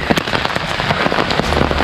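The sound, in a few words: monsoon rain on the trek to Lohgad fort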